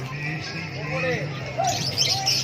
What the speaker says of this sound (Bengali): দেখো কি সুন্দর ছোট ছোট পাখি। এগুলো কি পাখি? বদ্রি পাখি।